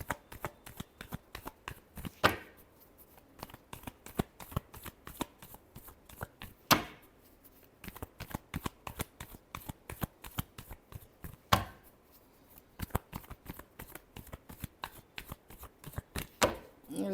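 Tarot cards being shuffled by hand during a reading, a steady rapid riffle of crisp papery clicks with a few louder slaps and pauses between bursts, close and clear with no talking.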